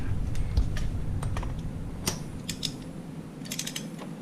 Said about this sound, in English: I've got my torque wrench, my 3/4 inch torque wrench